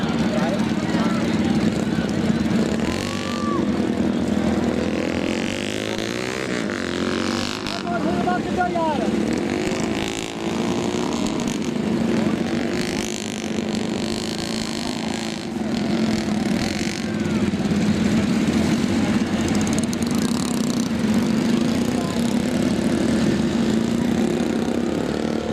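A motorcycle engine runs at a village children's competition, holding a steady drone throughout with slight rises and dips. Voices talk over it at times.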